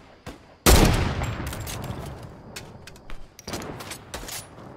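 Rapid gunfire from a minigun in a Fortnite Arena match: a loud sustained burst erupts early and rolls on with scattered shots and a second flurry near the end, with no talk over it.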